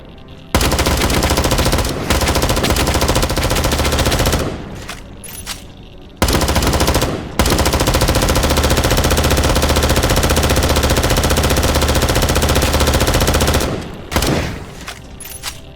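Automatic gunfire in the survival shooter Dysterra, long loud sustained bursts of rapid shots broken by a few brief pauses, close and dense with no talking.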